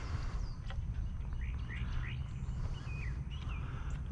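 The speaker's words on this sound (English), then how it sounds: "I try not to mess with the birds too much because I don't want them to be scared to come to our pond." Small birds call around a pond: a scattering of quick, high chirps and short whistled notes, fairly faint, over a constant low outdoor rumble.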